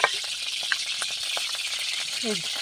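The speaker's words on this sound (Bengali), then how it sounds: "এদিকে তো কড়া পুরো গরম হয়ে গেছে, পুরো চরবর চরবর করছে তেল" Hot oil sizzles loudly in a kadai, a dense continuous crackling hiss close by, with faint voices underneath.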